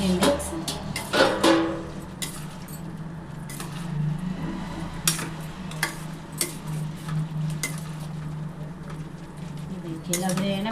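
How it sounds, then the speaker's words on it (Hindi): Fried potatoes are tossed and mixed into a sauce in a pan for chilli potato, with repeated close clanks and scrapes of a spatula against the pan in irregular bursts over a faint background sizzle. "तो चलिए अब हम इसमें ऐड कर देते हैं अपने आलू।"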